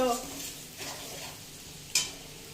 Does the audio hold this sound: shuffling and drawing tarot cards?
no